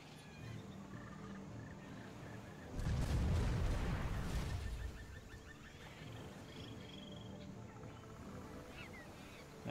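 Cannons fire from warships in a naval battle video game, a loud booming burst of overlapping shots lasting about two seconds amid quieter background game noise.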